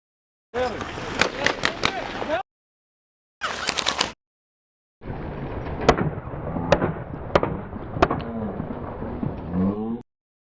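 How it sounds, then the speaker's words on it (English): Sharp gunshots crack out in quick bursts, several sharp reports spaced across the clip over a loud, rumbling background with breaks of silence between. "we could hear the same burst of gunshots that we had previously identified in Manor's footage"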